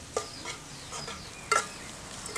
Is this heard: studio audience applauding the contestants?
no